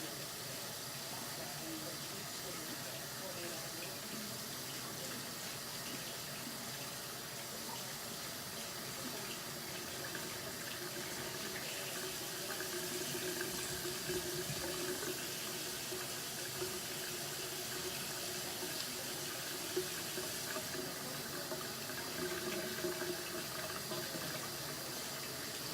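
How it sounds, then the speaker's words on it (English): Tap water runs steadily into a kitchen sink during handwashing, a continuous broadband hiss lasting the whole stretch that grows slightly louder and more splashy partway through, with no talking over it. "I'm gonna wash my hands."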